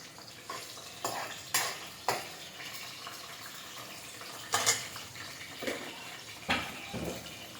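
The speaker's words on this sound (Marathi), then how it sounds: "आता मिरच्या तळत आहे मी." Chillies fry in a pan with a faint, quiet sizzle. Several sharp stirring scrapes and utensil knocks against the pan sound close by at irregular intervals.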